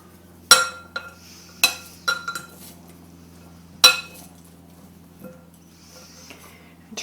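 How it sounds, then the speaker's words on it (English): A utensil clinks and scrapes against a bowl while corn salad with cheese and basil is mixed, a few sharp knocks followed by softer taps and scraping, close up and with no talk. "So I'm going to mix all this up."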